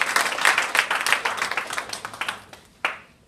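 An audience at a network marketing training event claps briskly, close and lively at first, then thinning out to a few last claps that die away.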